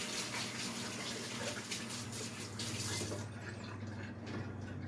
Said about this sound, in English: I'll have to wash my hands afterwards